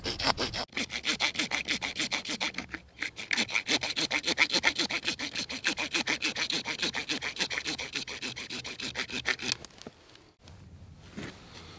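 A hand saw cuts through a piece of bone being shaped into an awl, making fast, rhythmic rasping back-and-forth strokes up close. A brief pause comes early, then the sawing continues steadily before stopping near the end.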